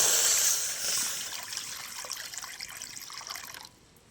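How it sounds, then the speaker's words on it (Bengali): Water poured from a vessel into a kadai to boil raw mango for homemade jam, a steady splashing gush that thins to a trickle and stops near the end, heard alone and close. "আমটা সেদ্ধ করার জন্য কড়ার মধ্যে আমি জল দিয়ে দেবো"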